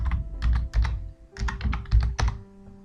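Someone types an email address on a computer keyboard: quick clusters of close, crisp keystrokes with short pauses between them, alone with no voice.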